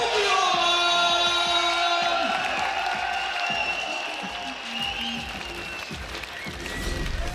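A hometown crowd at UFC Fight Night weigh-ins in the Czech Republic cheers and whoops for a female Czech fighter on stage, loud shouts and sustained crowd noise mixed with voices and a few sharp rising yells.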